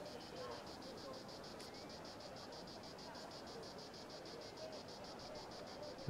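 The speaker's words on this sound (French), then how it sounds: "Les cigales chantent." Cicadas singing in the Memoriapolis video game, a steady pulsing insect drone that runs unbroken and fairly loud over a soft ambient bed.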